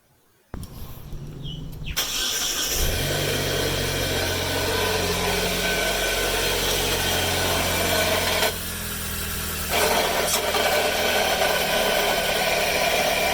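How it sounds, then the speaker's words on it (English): A bus engine starts and settles into a loud, steady idle with a low droning hum and a sustained moaning whine from a noisy alternator. A brief dip in level comes midway before the steady drone resumes. "They make this with this weird moany noise in the engine"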